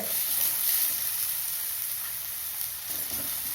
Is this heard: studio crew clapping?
no